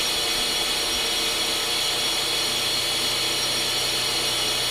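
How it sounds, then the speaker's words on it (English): An RELS model 2000 brake lathe machines a composite rotor on rotor feed, giving a steady, continuous mechanical whir with a low hum underneath that holds even and close throughout, with no one speaking. "Set the selector switch to rotor feed and begin machining."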